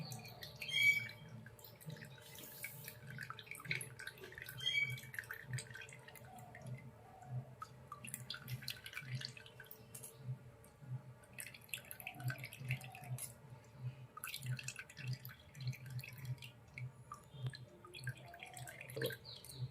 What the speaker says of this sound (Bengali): চামচের সাহায্যে জলটাকে চেপে চেপে চানাটাকে শুকনো করে নেব